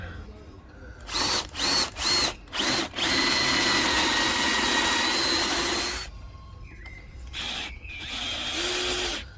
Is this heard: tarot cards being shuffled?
no